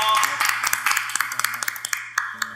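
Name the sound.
audience applause for speaker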